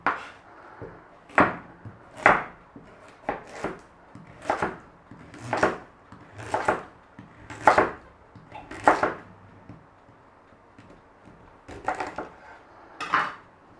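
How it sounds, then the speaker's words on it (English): A knife rough-chopping carrot and celery on a board for roasted chicken stock, about a dozen distinct crisp thuds in an uneven rhythm, close and clear with quiet pauses between strokes. "A little bit of carrot chopped."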